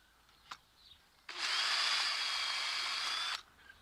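A single short burst of an old electric drill marking brickwork, whirring for about two seconds, close and fairly loud, after a faint click in an otherwise quiet room.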